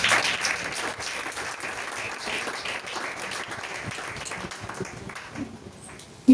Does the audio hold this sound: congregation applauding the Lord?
yes